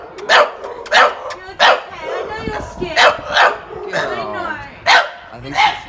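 Dogs at an animal pound bark loudly and repeatedly in sharp, evenly spaced bursts, close by, with voices talking between the barks.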